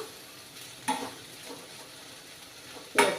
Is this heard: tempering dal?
yes